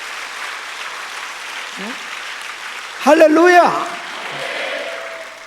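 A church congregation at a revival meeting claps in a steady wash of applause, with a voice calling out loudly partway through.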